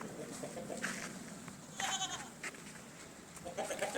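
Goats bleat on a goat farm in Assam, with several faint, wavering calls rising above a soft background hiss. They come in short bursts through the stretch, and a few brief voices mingle in.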